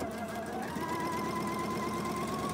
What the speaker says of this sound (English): sewing to the end,